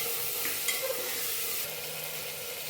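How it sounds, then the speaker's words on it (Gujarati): Potatoes being stirred with a spice tempering in a pressure cooker, a steady soft sizzle with occasional scraping spoon sounds, close and alone. "આપણે જો બટેકા બધા અંદર એડ કરી દીધા કુકરમાં, સરસ રીતે હલાવી લઈએ, વઘાર સાથે સરસ મિક્સ કરી લઈએ આપણે"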